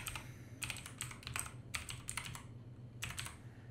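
Typing on a computer keyboard, with clusters of quick, light key clicks coming in short bursts and pauses against a low steady hum of background noise.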